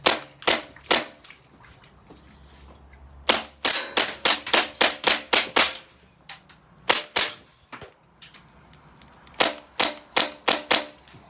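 AAP-01 airsoft pistol fired in single shots, a close run of sharp snapping pops, some spaced and others in quick strings, with short pauses between groups and no talk.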